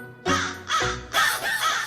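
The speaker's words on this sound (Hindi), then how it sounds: "मुझे कौवा बोल रहा है" A crow caws close by in three or four loud, harsh calls spaced a fraction of a second apart, standing out clearly with no talk.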